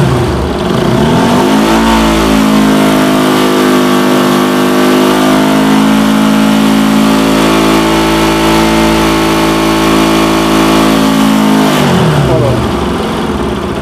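A loud motorcycle engine rises in pitch as it revs up, holds a steady high drone for several seconds, then drops back down.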